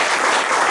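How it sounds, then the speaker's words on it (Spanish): A church congregation claps together in praise, a brief burst of dense, loud applause filling the hall. "Le damos una ofrenda de palmas a nuestro buen Dios"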